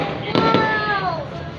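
New Year fireworks going off at a family celebration, a couple of muffled pops followed by a whistling rising tone, heard at moderate distance amid crowd noise and voices.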